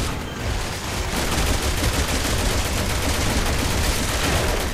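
Sustained enemy gunfire in Resident Evil 6: a dense, continuous fusillade of rapid shots fills the clip at steady loudness with no pauses.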